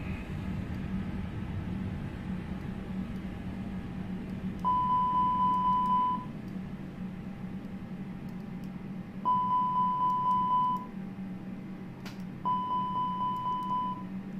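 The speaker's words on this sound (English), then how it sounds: "Okay, the fire alarms all going good with it." Three separate runs of rapid beeping from an A320 cockpit fire alarm test in Microsoft Flight Simulator, each a steady high tone pulsing for about a second and a half over a constant low cockpit hum.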